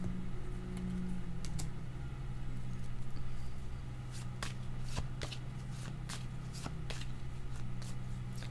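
Tarot cards are shuffled close by in a quick run of crisp riffles and flicks, fairly faint over a steady low background hum.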